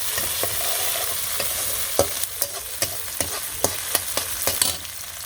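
Chopped onion fries in oil in a village kitchen, a constant sizzle broken by regular sharp clacks as a spatula stirs it.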